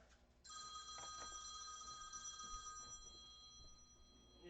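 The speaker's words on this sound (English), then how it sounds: "Phone call, of course, while I'm on." A telephone rings steadily in a workshop during a build session, a sustained bright electronic ring starting after a brief moment and continuing throughout at moderate level over low background noise.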